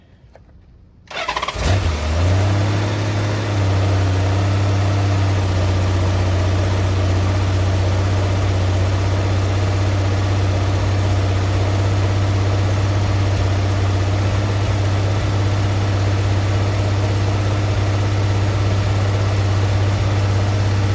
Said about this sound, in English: I'm going to put choke on, and we are going to see.